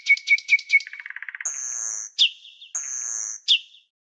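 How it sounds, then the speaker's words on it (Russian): Nightingale song, loud and clean with no background: a run of repeated rapid chirps, then fast trills and two long sustained whistles, each broken off by a sharp note. "Соловей."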